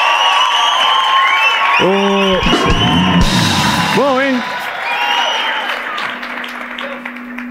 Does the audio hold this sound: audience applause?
yes